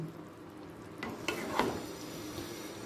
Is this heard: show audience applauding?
no